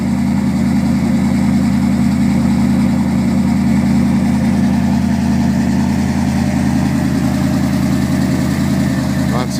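A 1972 GMC Sprint sits idling with a loud, close, steady low engine rumble that keeps an even, throbbing rhythm for almost ten seconds without change.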